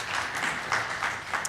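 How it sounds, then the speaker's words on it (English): Audience applause at a panel discussion on access and equity in higher education, a brief, steady patter of many hands clapping at moderate volume. "give them another round of applause"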